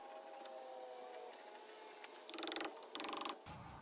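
Ratchet driving rotor screws on a 2003 Honda Pilot front brake, heard as two quick bursts of rapid clicking near the end after quiet shop background.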